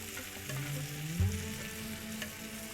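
Pav bread toasting in butter on a hot pan gives a soft, quiet sizzle close by, with a steady low hum underneath and one brief thump midway.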